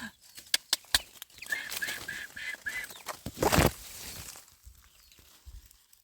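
Chickens on a tribal hillside ginger farm cluck in a quick run of short repeated calls, with sharp clicks and rustling around them and a brief louder burst before things go quiet.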